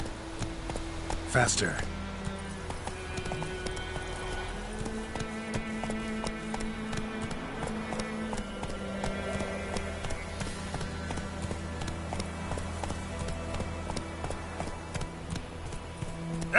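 Hooves pound in a fast, continuous rhythm as Roach gallops in The Witcher 3, layered over sustained game music, with a short spoken word early on.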